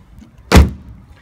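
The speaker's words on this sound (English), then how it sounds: "that lovely, solid German thud when you close one of the doors or hood or trunk" A single solid, muffled thud of a 2002 BMW 330Ci Convertible's door shutting, close by, followed by quiet.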